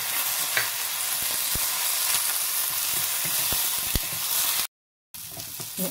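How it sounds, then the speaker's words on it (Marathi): Tomato and onion fry in a pan with a dense, steady sizzle and intermittent sharp stirring clicks, cut by a brief dropout of silence near the end before the sizzle resumes. "आता टोमॅटोही चांगला परतून झालेला आहे."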